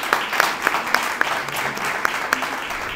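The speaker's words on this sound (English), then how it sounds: "Let's give Faye a round of applause" A modest round of applause at an awards ceremony, fairly faint and thin, with a few distinct sharper claps standing out over a soft steady patter.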